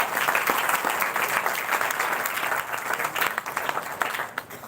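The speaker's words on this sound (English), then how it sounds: "Let us give a big round of applause to them." A congress audience gives a sustained round of applause that stays full and even before thinning slightly toward the end, with no talking.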